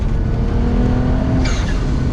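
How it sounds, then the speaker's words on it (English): Turbocharged BMW 135i convertible engine droning loud and close under load, then a sharp hissing release from its HKS blower valve about two-thirds through. "I love the sound of the HKS blower valve."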